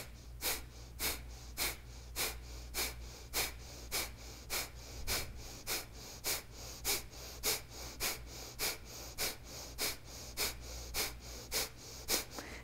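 Rapid forceful breaths pumped out in a steady rhythm during a yoga breathing exercise, roughly two sharp exhalations per second, close and loud over a low constant hum, continuing unbroken throughout.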